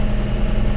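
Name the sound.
John Deere tractor engine running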